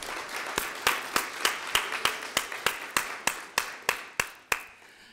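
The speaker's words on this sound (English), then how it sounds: "Give yourselves a round of applause." Evenly spaced, sharp claps at a college graduation awards luncheon, loud and close, slowing slightly toward the end, with no talking.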